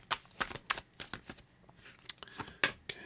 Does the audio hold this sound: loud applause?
no